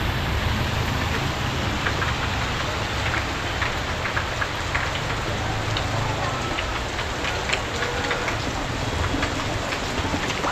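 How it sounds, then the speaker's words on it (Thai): Steady, dense rain pours down around a hotel in Sapa, Vietnam, a continuous loud hiss with scattered droplet patter and no break. "ฝนไม่ยอมหยุดเลย"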